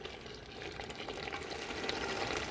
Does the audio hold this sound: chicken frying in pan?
yes